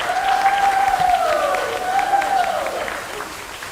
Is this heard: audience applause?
yes